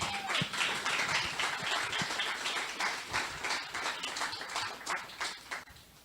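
A church congregation claps together in praise, a lively, uneven patter of many hands that swells and then thins out toward the end.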